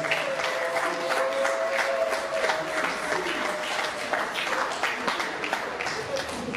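Steady applause from the audience fills a hall as a woman stands to be seen at a presentation of songs. The dense clapping holds for several seconds while a voice talks over it.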